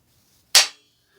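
A single dry-fire click from the two-stage HACT trigger of a Howa 1500 bolt-action rifle: one sharp, crisp snap that decays quickly, close and alone in an otherwise quiet room.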